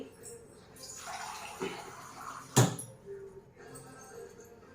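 Water is added to a mixer jar while grinding masala for a Kundapura-style bangde (mackerel) fish curry: a soft rushing pour lasts about a second and a half, followed by a sharp clunk of the jar and quiet kitchen noise.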